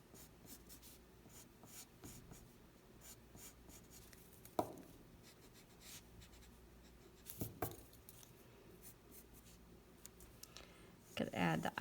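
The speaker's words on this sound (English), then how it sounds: "now we're going to draw the details of our snowman" A pencil sketches the details of a snowman drawing on paper with soft scratching and tapping strokes, quiet and close, plus a few sharper knocks and a louder scribble at the end.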